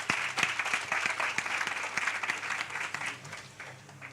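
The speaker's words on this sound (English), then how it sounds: "Let's give her a round of applause." An audience at a revenue-streams workshop applauds a speaker, a steady spatter of many hands clapping at moderate distance for several seconds before tapering off.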